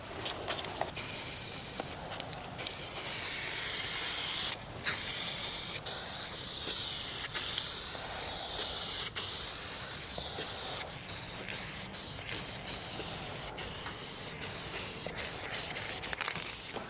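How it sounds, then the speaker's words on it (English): A spray paint can hisses in long steady bursts with brief pauses between them while a mural is painted on an abandoned factory roof outdoors. "this is pretty much what one spray can gives you"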